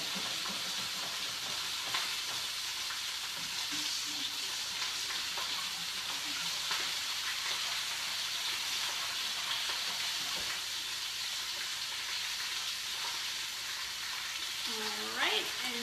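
Barramundi fillets sear in a hot pan with potatoes nearby, giving a continuous loud sizzle and hiss with occasional crackles, and a voice faintly present underneath.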